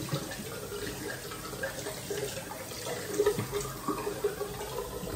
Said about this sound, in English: Warm water and wash it off of your face.